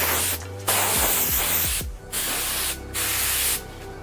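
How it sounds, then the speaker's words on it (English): Hissing spray bursts from cleaning painted PC case panels, a Bitspower Titan One 2.0, in four separate blasts with short gaps, loud and close, with a low hum underneath. "I'm going to spray it off just to kind of get all this, the hair, some of the fuzz or some other stuff to make it clean."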